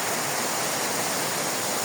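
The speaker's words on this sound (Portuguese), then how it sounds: "Aí tem essa cachoeira aqui na Praia Brava que poucas pessoas conhecem" A small waterfall at Praia Brava beach in Angra dos Reis spills through a narrow channel into a pool, giving a steady, dense rushing roar that fills the air close by, with no talking.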